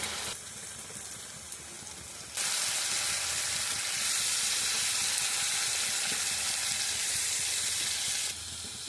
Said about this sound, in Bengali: পেঁয়াজটা ভাজা হয়ে গেছে, এবার টমেটো পিউরিটা দিয়ে দেবো।